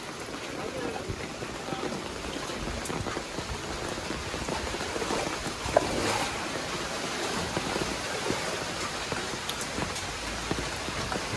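Heavy rain falls over a flooded village street, a dense, steady roar of drops hitting water and surfaces, continuous and loud throughout with no break.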